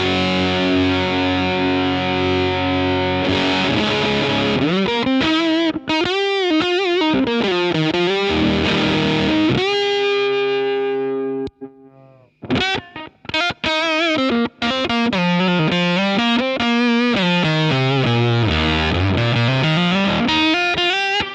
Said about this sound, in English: This is the Foxton Woods, one of my favourites from him. It is an upper octave fuzz generator,